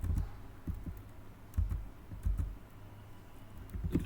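Someone types text on a computer keyboard with soft, uneven key taps in short bursts, close by. No voice is heard.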